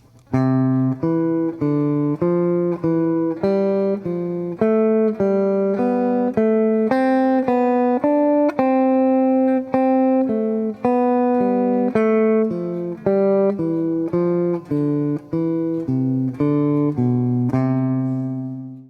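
A clean, plucked guitar runs through a long scale in thirds, single notes climbing and falling in steady, even steps, played alone with no talking.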